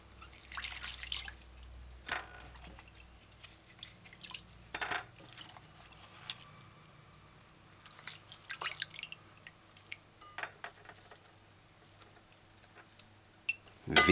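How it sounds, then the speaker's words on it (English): Water runs and drips quietly in a kitchen as vegetables get a final rinse under a fresh tap, with intermittent splashes and trickles amid near-silence. "give your vegetables a final rinse. It's best if you do this part on the fresh running water."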